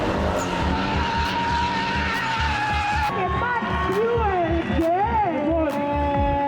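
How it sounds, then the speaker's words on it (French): Turbocharged Nissan 200 sports cars with 300-horsepower engines drift with sustained loud tire squeal that wavers and swoops over a steady engine roar, continuous throughout without pause. "largement assez puissants pour pouvoir faire des dérapages comme ceux que l'on voit"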